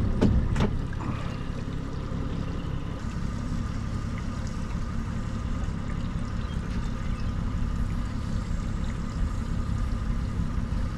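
A fishing boat idling out of gear on a California river: a steady low motor rumble with water sloshing against the hull, continuous and fairly quiet, with a few sharp knocks at the very start.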